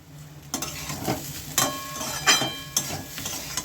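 Rohu fish head and Gobindobhog rice sautéing in a pan, a steady sizzle broken by repeated scraping stirs of a utensil at irregular intervals, close and loud with no voices.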